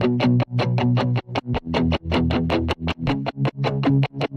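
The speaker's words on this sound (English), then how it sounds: "Muted guitar." Palm-muted electric guitar with heavy distortion, programmed in FL Studio for a melodic rock bass remix, playing a tight, rhythmic chugging pattern of short repeated notes with brief gaps, loud and up front.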